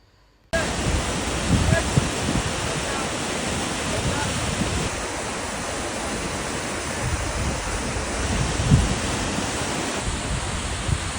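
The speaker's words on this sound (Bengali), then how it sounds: "এই যে এই ঝর্ণাটা অনেক উঁচা তিন হাজার ফিট উঁচা হবে মিনিমাম ওইখান থেকে পানি আসতেছে" A very tall, ice-cold waterfall near Pokhara, Nepal roars as a dense, continuous rush of falling water, loud and close, with wind buffeting the microphone and a voice faintly under the noise.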